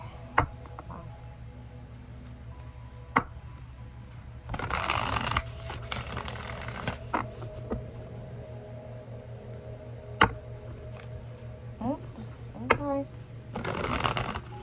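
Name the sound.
shuffling tarot cards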